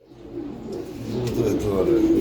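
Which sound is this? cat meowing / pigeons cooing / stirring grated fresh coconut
pigeons cooing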